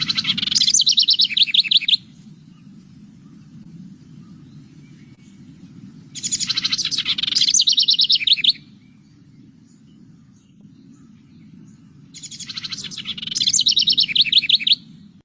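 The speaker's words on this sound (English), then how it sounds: "Here's the house wren." House wren song: three bursts of bubbly, rapid chattering trills, each about two seconds long and separated by pauses, heard clearly over a steady low rumble of background noise.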